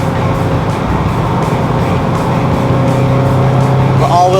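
Subaru WRX STI with all-wheel drive powering through a corner, a steady loud engine drone under the whole stretch, rising in pitch near the end as the throttle opens.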